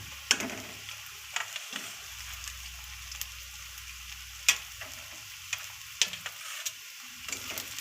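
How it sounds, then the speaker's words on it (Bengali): Onion, ginger and garlic fry together in a pan with whole cardamom and a dried chilli, a soft steady sizzle broken by several sharp scraping stirs, close and fairly quiet with no talk. "আমাদের পেঁয়াজ আদা রসুন সবগুলো একসঙ্গে ভালোভাবে একটু ফ্রাই করে নিয়েছি"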